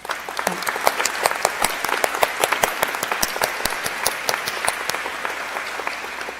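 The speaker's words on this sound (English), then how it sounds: "So please join me to give them a round of applause." An audience at a 2018 college convocation gives the faculty a sustained round of applause, with dense, steady clapping from many hands that fills the room.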